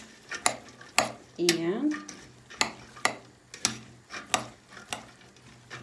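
A Russian Olivier salad with sausages is stirred in a bowl, giving a run of regular wet, soft clacking strokes about twice a second. A brief voice cuts in partway through.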